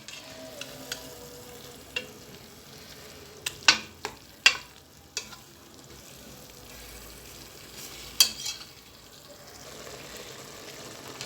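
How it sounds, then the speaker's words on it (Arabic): Meat fries in a pan with a low, steady sizzle, broken by several sharp clacks and scrapes of stirring, heard close with no talking. "راح نزيدو نلوحو اللحم ونخليو كلشي يتقلى مليح مليح"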